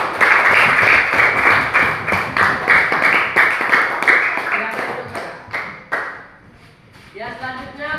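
A classroom of students claps for a classmate's reading in a lively, loud, rhythmic burst of applause lasting several seconds, then fading out before a voice begins speaking.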